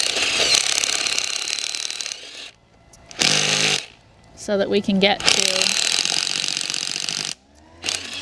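A power drill fitted with an old paddle bit grinds out a concrete piece in several harsh, rattling bursts separated by short pauses, with someone talking in between.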